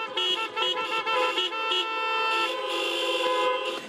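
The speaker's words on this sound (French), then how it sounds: "c'est un concert de klaxons qui plébiscite l'initiative" Many car horns honk together at the end of a church mass outside a parish in Burlington, Ontario, with overlapping sustained toots and short beeps blending into a loud, layered chorus.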